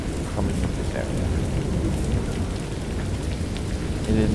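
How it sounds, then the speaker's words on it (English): Heavy rain pours down in a dense, steady roar during a thunderstorm, with low rumbles of thunder rolling underneath throughout. "it's dark, it's thunder, it's lightning, heavy storms"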